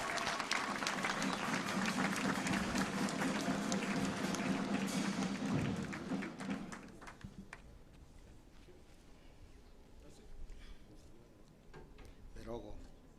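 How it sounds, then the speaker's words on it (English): Audience applause at a Technical University of Kenya graduation ceremony, a dense, loud wash of clapping for about six seconds that then fades into scattered claps and quieter room noise. "Some clap for that."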